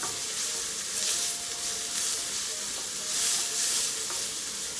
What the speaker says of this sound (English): we want our peppers and onions to get nice and sauteed